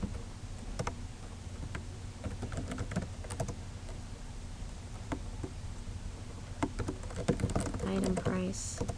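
Typing on a computer keyboard while entering column labels into an Excel spreadsheet: a close, steady run of quick key clicks with brief pauses and a faint background hum.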